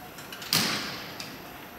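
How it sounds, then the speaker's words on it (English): A Schindler elevator door in an office tower slides with a brief soft whoosh and thump, followed by a faint click about a second later, against steady background hum. "The door wants to close."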